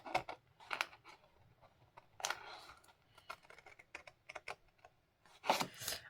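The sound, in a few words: cutting paper along drawn lines for a 3D frame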